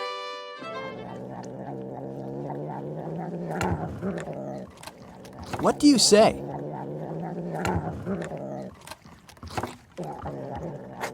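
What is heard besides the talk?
purring cat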